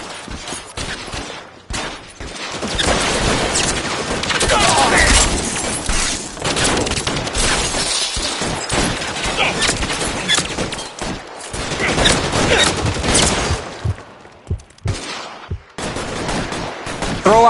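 A gunfight in L.A. Noire on PS4 erupts in dense, rapid bursts of gunfire, shots cracking loudly and near with brief pauses between volleys, continuing for most of the stretch.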